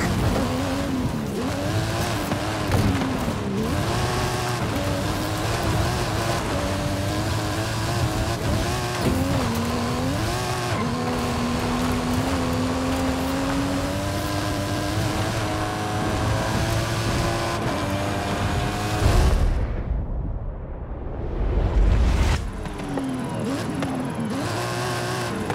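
Forza Horizon 5 stunt car, a Mike Steel Special with custom engine and suspension, roaring uphill under hard throttle, its engine note rising and falling through gear changes with tire squeal, loud and continuous, briefly dropping out near the end.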